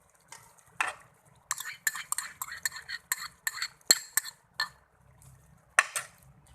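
A spoon scrapes and clinks against a pot while yogurt is stirred into chicken biryani, a series of short, close metallic strokes in an uneven rhythm with quiet moments between.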